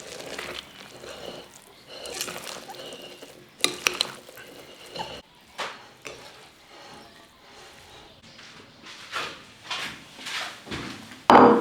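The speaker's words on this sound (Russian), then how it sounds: "Так, теперь хорошенько перемешаем." Okroshka made with kvass is stirred in a bowl, giving irregular bursts of sloshing and scraping that rise and fall, with a sharp clatter at the end.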